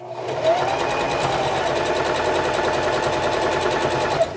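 A sewing machine stitches two gray quilt fabric strips together end to end, running in a steady, continuous mechanical whir with a fast regular needle pulse, close and loud throughout with no talking.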